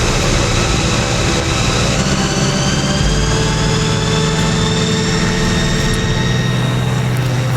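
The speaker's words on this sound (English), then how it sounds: "And we now have our propeller going." A flying car's propeller spinning up, driven by a 190 brake horsepower engine, gives a loud, constant droning roar with a steady whine layered on top, close and unbroken throughout.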